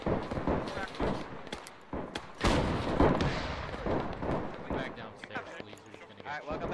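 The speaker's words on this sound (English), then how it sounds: "Yeah, they've been using that field gun." In the Arma 3 video game, a World War 1 field gun fires during a naval trench defense battle, with loud booms and cracks of gunfire among the blasts while players talk over the action.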